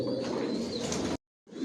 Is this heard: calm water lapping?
no